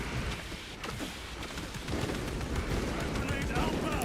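Bolter fire in Space Marine 2 crackles in rapid, dense bursts of heavy shots, nearly continuous and loud, mixed with other game battle noise.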